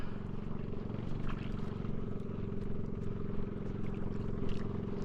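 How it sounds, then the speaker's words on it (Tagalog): A steady motorboat engine drones throughout as the boat circles on a lake, a low continuous hum with faint splashing and wind on top, no clear change in distance. "may bangka din na umiikot"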